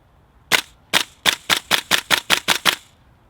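A Tokyo Marui M4 MWS gas blowback airsoft rifle fires BBs in a quick string of ten sharp, evenly spaced shots at close range, each a crisp pop with no talk.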